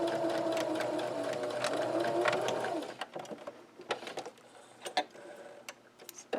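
A sewing machine stitches fabric close to the edge of a drawstring backpack, running in a steady, close whir for about three seconds before stopping, followed by scattered light ticks and clicks.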